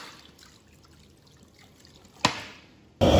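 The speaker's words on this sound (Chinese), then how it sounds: "五花肉冷水下锅。" Pork belly, skin side down, drops into a pot of cold water with one sharp splash after a near-silent stretch, followed by a sudden loud rush of sound at the very end.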